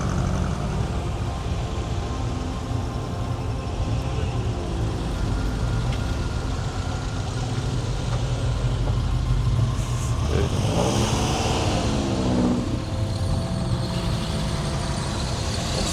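Collector cars roll through a Paris street during a summer classic-car run, their engines rumbling continuously with occasional revving swells and nearby traffic noise, fairly loud and close with no talking.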